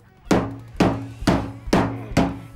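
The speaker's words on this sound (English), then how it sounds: "kind of hammered that in a little bit" Five evenly spaced, solid thuds from a dead blow hammer knocking a part into place on a Chevy Tahoe, each strike close and resonant with a short ringing decay.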